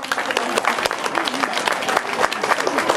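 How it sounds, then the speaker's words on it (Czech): A crowd claps warmly at the opening of a new children's playground honouring the project team, steady dense applause with a few louder bursts, close and sustained throughout. "Takže krásný potlesk pro ně, pro všechny."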